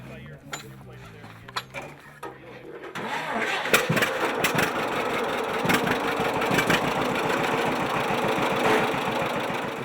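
A 1949 John Deere A tractor engine cranks over a few times, catches, and runs with a loud, rhythmic, lumpy chugging up close, and voices are briefly heard at the start.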